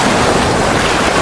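Sea waves crash against rocks on the coast of Dasol, Pangasinan, a loud, dense wash of surf roaring continuously up close, mixed with wind buffeting the microphone.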